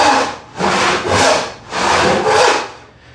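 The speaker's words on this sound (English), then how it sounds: "If you're sawing too far away from the line" A handsaw cuts through wood while building a spice rack, four loud rasping strokes in a steady back-and-forth rhythm, close up and alone.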